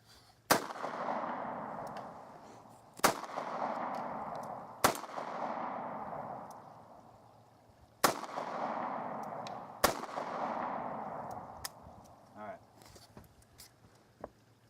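Five sharp shots from a compact handgun fired double action ring out at an outdoor range, spaced a few seconds apart, each loud crack trailing into a long echoing decay, with talk between the shots.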